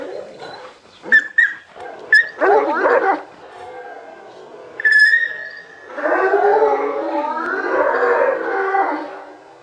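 A dog that has just been bitten whimpers and yips in short high bursts, then lets out a longer run of whining, fairly close, with no talking.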